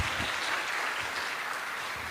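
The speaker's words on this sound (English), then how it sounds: "Let's give a round of applause for that wonderful class." Steady, dense applause from an audience at a Sunday feast gathering after a class, a continuous wash of clapping hands throughout, fairly close and with no talk over it.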